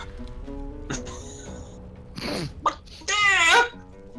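A character transformed into a chicken in the video game Divinity Original Sin 2 lets out a few short clucks and then a loud, wavering squawk near the end, close and clear over a quiet game background.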